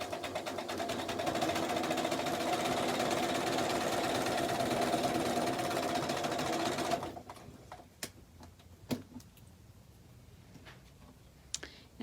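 A sewing machine stitches a fabric table runner with a steady, fast mechanical whir and ticking for about seven seconds, then stops, leaving a quiet room broken by a few sharp clicks and taps.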